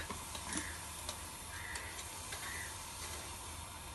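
Turmeric and spices frying in a pan for trotter paya, a soft steady sizzle with faint stirring scrapes, quiet and close.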